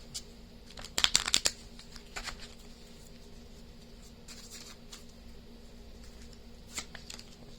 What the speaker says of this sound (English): One more shuffle and we will begin.